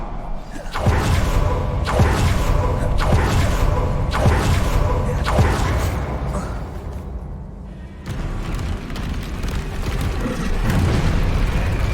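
Fire-blast Confringo spell explosions in the video game Hogwarts Legacy, a rapid string of loud booming bursts with whooshing tails, continuous and dense, followed after a brief lull by more blasts.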